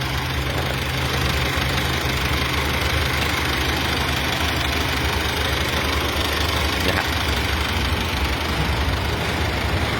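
A rebuilt car engine idling steadily on its test run, a continuous close, loud running drone with a slight knocking rhythm and no talk.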